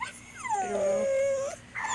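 A dog whines in a long, rising and falling whimper from the background, fairly close, with a short spoken phrase at the end.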